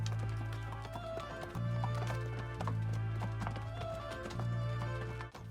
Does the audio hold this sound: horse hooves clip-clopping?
yes